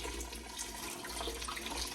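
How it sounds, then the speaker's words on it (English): Hot water poured onto 3mm poplar plywood at a campervan build: a steady splashing trickle of liquid onto the wood sheet, close and continuous for the short stretch, with no voices. "then just pour it on the wood, on the plywood"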